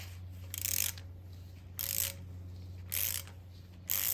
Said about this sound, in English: we are gonna try and unscrew all these bolts and remove this first